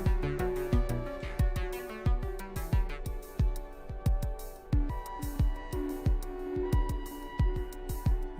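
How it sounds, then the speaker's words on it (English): Modular synth patch run through a Mimeophone delay set to flip, so repeats play back reversed: a steady pattern of plucky pitched hits with smeared, backward-swelling echoes and sustained tones, continuous and moderately loud with no talking. "which I have set to flip. So it's doing delays and then reversing those delays, and you can hear it."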